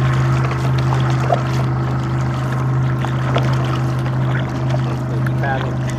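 A war canoe crewed by a college team at practice is paddled through water, with steady splashing and sloshing under a constant low hum and scattered voices nearby.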